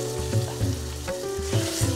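Chopped tomatoes fry in a pan for pav bhaji, giving a steady close sizzle broken by a few soft stirring scrapes, with no talking.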